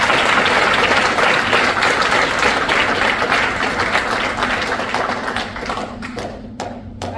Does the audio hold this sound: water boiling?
no